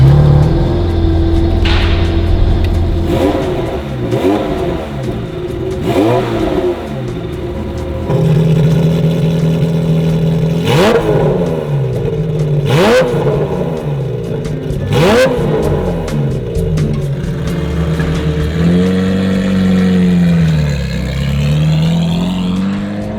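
Ferrari 355 fitted with Tubi and Capristo exhausts driving, engine revving up repeatedly through gear changes with sharp rising pitch sweeps and throttle blips, loud and close throughout.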